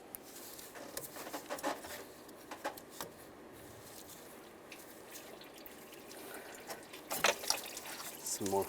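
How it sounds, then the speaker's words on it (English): Engine coolant trickles and drips faintly from disconnected heater hoses on a 2007–2013 Chevy Silverado, with soft irregular splashes and a low voice heard now and then in the background. "Some more coolant's gonna come out."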